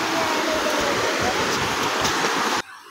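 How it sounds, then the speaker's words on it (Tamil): Water rushing steadily at Siruvani dam in a forested setting, a loud continuous broadband roar that cuts off abruptly near the end. "அந்த நீருடைய சத்தம் உங்களுக்கு கேட்கும்னு நான் நினைக்கிறேன்."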